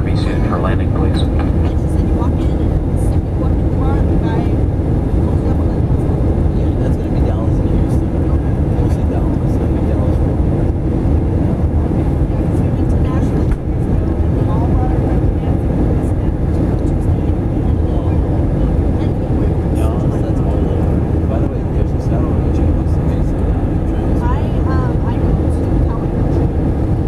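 Inside the cabin of a jetBlue Airbus A320 descending for a night landing at Long Beach, a loud, steady engine and airflow roar fills the whole stretch without letting up, with faint voices beneath it.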